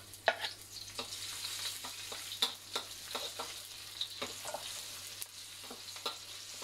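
Garlic, shallots, ginger and chilli sizzle steadily in a hot pan for spicy soy sauce beef, with frequent clicks and scrapes of stirring over the constant frying hiss, close and moderately loud.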